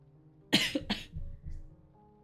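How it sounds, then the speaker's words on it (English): A person coughs twice in quick, harsh bursts close to the microphone, followed by a couple of softer throaty breaths and rumbles in an otherwise quiet room. "as I try not to die coughing"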